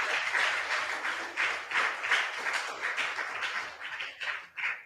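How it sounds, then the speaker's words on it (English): An audience claps for a school at an inter-school competition. The applause is continuous and fairly close, with dense hand claps that rise and fall in waves over several seconds. "A round of applause for GIFPRAISE School Complex."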